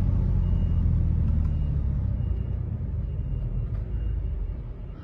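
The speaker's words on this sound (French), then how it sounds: "il y a un camion qui recule" A large truck reversing nearby, a heavy low engine rumble that stays steady and loud, then eases slightly toward the end, with no voices.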